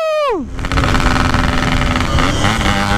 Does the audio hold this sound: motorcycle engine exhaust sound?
yes